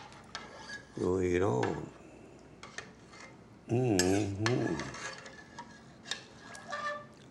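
A metal utensil stirs and scrapes inside a pot of food seasoned with dried mint, giving soft clinks and rasps at close range, with two short bursts of speech over it.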